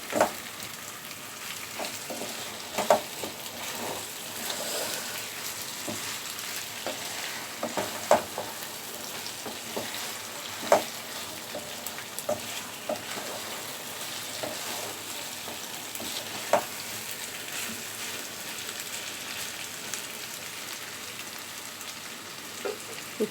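Chicken fries in masala over a high flame, a constant close sizzle with scattered clinks and scrapes as a spoon stirs the pan at irregular moments, no talking.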